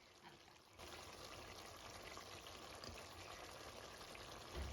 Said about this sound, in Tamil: உருளைக்கிழங்கு போட்டு ஒரு சொட்டு தேங்காய் பால் விடுவோம்.